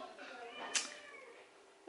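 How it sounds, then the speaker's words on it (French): A female cat in her first heat meows once, briefly and fairly softly indoors, behind a quiet household background. "Vous avez vu, elle fait que miauler."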